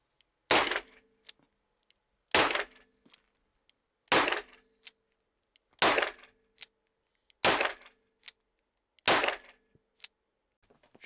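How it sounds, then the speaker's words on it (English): An Alpin Arms Kommando revolver fires full-power .357 Magnum rounds in relatively rapid succession: six loud, sharp reports spaced about every one and a half seconds, each followed by a brief ringing tail and small clicks. "Shooting full house 357 Magnum, like relatively rapid fire, that's pretty good."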